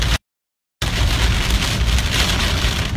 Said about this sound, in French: Donc là on est vraiment en plein cœur de l'orage.